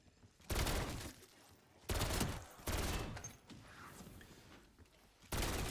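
Sokol LMG fire in Black Ops 7 Zombies comes in four loud, sustained bursts of rapid automatic shots separated by short pauses, with quieter game ambience between them.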